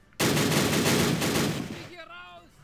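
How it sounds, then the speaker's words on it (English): A burst of dense gunfire aimed at a bunker in the World War One strategy game Battle Academy WW1 erupts suddenly and rattles on for under two seconds before fading, and a voice follows. "Might as well go ahead and fire at the bunker as well."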